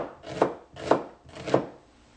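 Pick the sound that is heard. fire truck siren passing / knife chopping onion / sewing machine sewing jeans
knife chopping onion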